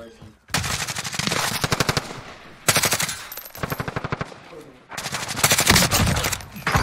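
Rapid automatic gunfire rattles through a Call of Duty Warzone match in three long, loud bursts of evenly spaced shots with brief gaps between them, close to the player.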